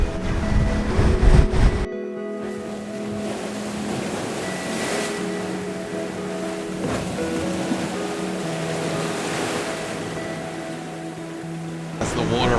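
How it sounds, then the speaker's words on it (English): Ocean waves rushing up against cliffs along a big beach, a steady broad wash of surf with wind, swelling and receding continuously throughout. "That's the water rushing in."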